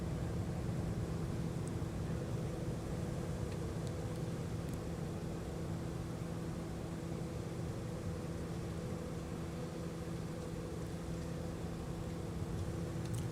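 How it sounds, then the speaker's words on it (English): Trent XWB jet engines on an airliner at Minneapolis–St. Paul airport in the evening give a steady low, growling rumble with humming tones, held evenly throughout at a moderate distance with no voices. "Listen to the growl from those Trent XWB engines."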